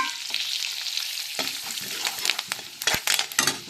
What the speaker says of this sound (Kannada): ಜೀರಿಗೆ, ಸಾಸಿವೆ ಹಾಕ್ಕೊತೀನಿ, ಜೀರಿಗೆ ಹಾಕ್ಕೊತೀನಿ, ಕರಿಬೇವು ಹಾಕ್ಕೊತೀನಿ.